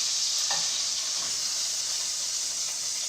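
Food frying golden in a pan, an even, close hiss and sizzle held steady for a few seconds with a couple of faint soft clicks.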